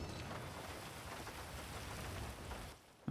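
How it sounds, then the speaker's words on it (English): Steady in-game rain in GTA roleplay on NoPixel, a dense even hiss that holds for most of the stretch, then dips briefly near the end before a louder low thump cuts in. "Oh, it's pretty rainy out there."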